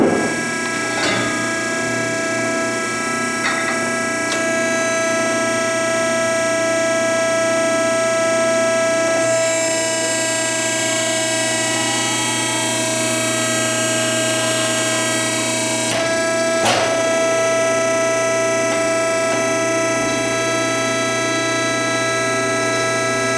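HUTH wrinkle die tube bender working stainless steel tube, a steady machine hum with tonal whine running throughout, a brighter hiss during the middle of the bend and a couple of sharp clicks, with no talking.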